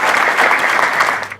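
Audience applause at a poetry evening in the House of Lords, steady dense clapping from a crowd that holds evenly and then tapers off at the end.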